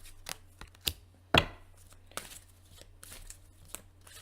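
Tarot cards are shuffled in a series of short, papery riffles and slaps, irregularly spaced and fairly quiet, with one sharper snap near the middle and no speech.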